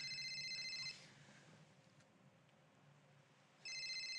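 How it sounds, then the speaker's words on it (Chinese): An electronic telephone ringtone trills in two short bursts separated by a quiet pause, heard in an indoor office-meeting setting with no talking. "我先接个电话。"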